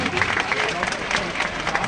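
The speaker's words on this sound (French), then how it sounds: "Aidez-moi à acclamer la grande centrale que nous découvrons ce matin. Applaudissez vous-même." A crowd applauds at a Labour Day 2014 union gathering of workers in Côte d'Ivoire, a steady dense wash of clapping with scattered louder bursts and some voices mixed in.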